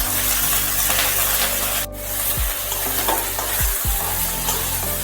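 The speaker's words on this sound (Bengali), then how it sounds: "ভালোভাবে নেড়ে ছেড়ে একটু লাল লাল করে ভেজে নিতে হবে" Cauliflower florets frying in mustard oil in a wok, giving a steady close sizzle broken by a few scraping, knocking stir strokes of a spatula against the pan, with no voices.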